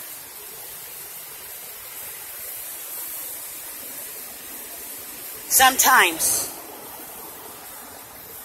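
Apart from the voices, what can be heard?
water flowing at a dam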